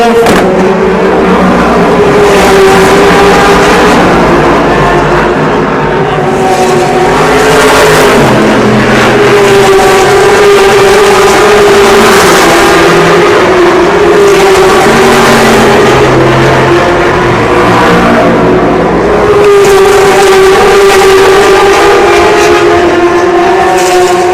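Audi race cars pass during the 24 Hours of Le Mans, a loud, continuous roar of engines with surging swells as they sweep by amid a dense trackside crowd din.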